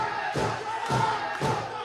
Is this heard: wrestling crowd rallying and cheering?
yes